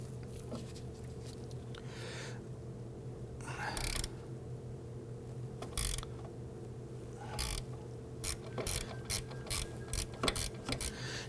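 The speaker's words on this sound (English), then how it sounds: "We're going to use our 8mm deep socket on our 1/4" ratchet." A 1/4-inch ratchet driving an 8mm deep socket on a rusty wheel cylinder of a 2008-2011 Ford Focus, giving bursts of quick ratcheting clicks between pauses over a low steady hum, fairly quiet.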